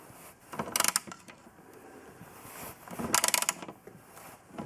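A bolt is loosened on a rod clamped tightly in a vise, giving two brief bursts of ratcheting, grinding metal clicks against a quiet workshop background.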